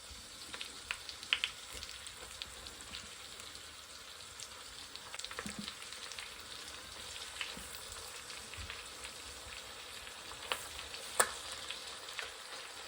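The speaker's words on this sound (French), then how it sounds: "on va mettre nos morceaux de poulet à l'intérieur pour les faire revenir gentiment" Pieces of Bresse chicken gently browning in butter and oil in a saucepan, giving a steady soft sizzle and crackle throughout with occasional louder pops, close by and with no voices.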